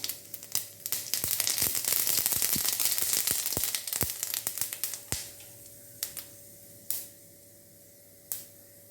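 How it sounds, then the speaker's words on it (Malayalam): Mustard seeds crackling in hot oil in a pan while cooking cheera thoran, a spinach stir-fry, with sharp irregular pops over a soft sizzle, dense at first and then thinning to sparse single pops. "എണ്ണ ചൂടായിട്ടുണ്ട് കുറച്ച് കടുകിട്ട് നമുക്ക് പൊട്ടിക്കാം"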